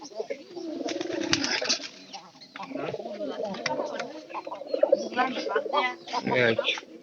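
Pigeons coo softly and repeatedly in the background of a home pigeon loft, with birds released outside and a person talking over them throughout.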